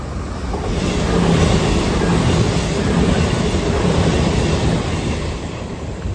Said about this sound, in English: Oh, I think the train's coming there.